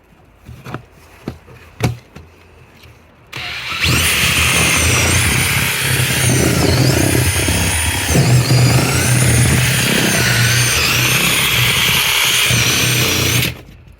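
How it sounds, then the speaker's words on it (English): A power drill fitted with a cement mixer paddle whirs loudly and steadily, churning through apples being crushed for cider for about ten seconds, preceded by a few sharp knocks and clunks. "we've opted for the cement mixer paddle attachment onto just a normal drill"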